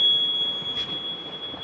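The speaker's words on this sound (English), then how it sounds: "Beeping is annoying." A steady high-pitched electronic tone beeps continuously on a sailboat, fairly loud and close, with a soft rustle of handling underneath.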